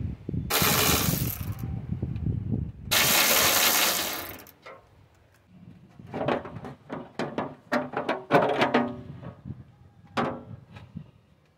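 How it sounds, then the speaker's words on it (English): A ratchet removes 10 millimeter bolts on a Toyota Sienna engine, giving quick bursts of close, rattling clicks after two loud rushing noises near the start. "I'm gonna be removing all the 10 millimeter bolts here to take this out."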